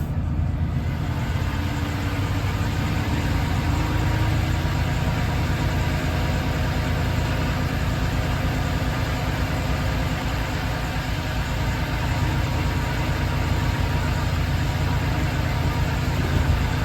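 A vehicle engine runs steadily after being put in gear, a continuous low rumble close by for the whole stretch with no speech over it.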